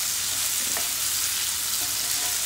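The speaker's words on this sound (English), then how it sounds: "now these onions are going to cook along with the bhindi, with the okra" Onions cook with okra (bhindi) in a pan, a dense, steady hiss of sizzling oil with one faint utensil tap, close and continuous with no voices.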